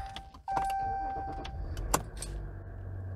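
A RAM 1500 EcoDiesel pickup's engine starts with a short crank and settles into a steady, quiet diesel idle, close by, with a few faint clicks and chimes over the running engine.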